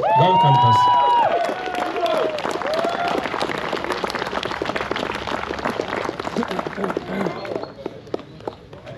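Audience applause at rally awards for Kupiškio Mini Ralis 2025, a loud sustained wash of clapping and cheering, with a voice and a drawn-out tone at the start.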